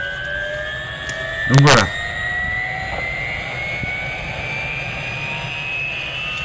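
A helicopter's rotors spinning up in Farming Simulator 17, a rising whine with climbing turbine tones over a low rumble, with someone speaking briefly over it.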